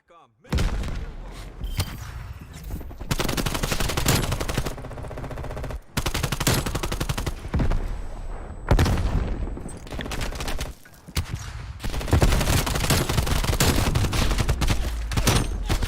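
Rapid automatic gunfire from a weapon in a video game, loud, dense bursts filling nearly the whole stretch with only brief pauses between volleys, no talking over it.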